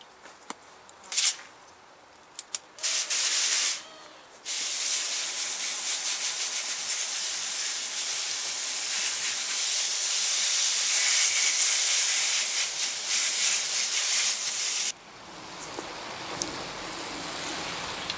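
A garden hose sprays water onto aphid-covered plants on an allotment plot, a loud hissing spray that starts in short bursts, then runs steadily for about ten seconds and drops lower as the spray shifts.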